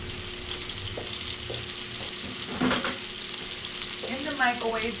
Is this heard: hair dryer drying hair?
no